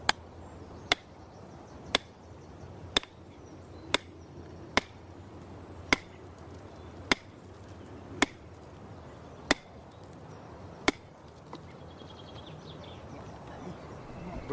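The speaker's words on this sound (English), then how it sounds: "this, of course, has a nice sliding action when you beat it with the hammer" A heavy hammer strikes an iron wedge driven into slate rock to split it, about a dozen sharp, ringing blows at an even pace of roughly one per second, outdoors with faint birdsong in the background.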